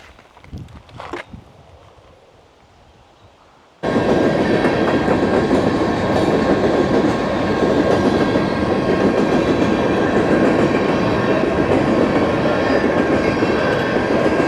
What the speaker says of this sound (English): this is a UP, which I believe is one of the only freight trains left